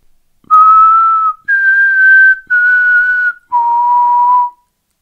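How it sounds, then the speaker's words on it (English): Four clear whistled notes in a row, each a steady held tone, the last one lower; clean and close with no talking. "Instead of the classic three-note ending whistle, they moved on to a more modern two-whistle."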